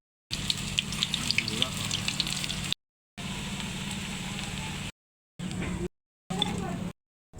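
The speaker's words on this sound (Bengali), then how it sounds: "এবার আমি একে একে পাপোড়াগুলো ভেজে নেব" Red amaranth leaf pakoras fry in oil with a soft, steady sizzle and occasional crackles, in several short cuts separated by gaps of silence, with a voice speaking over parts of it.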